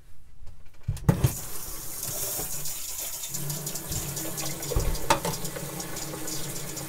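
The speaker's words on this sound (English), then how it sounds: "I can go ahead and turn the pump off and run this water for a bit." Water runs steadily from an RV faucet after the water system has been disinfected, with the pump switched off. The flow is close and continuous, with a brief louder gush near the start.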